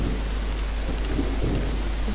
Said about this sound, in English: Believe it or not, it's actually raining as well after all.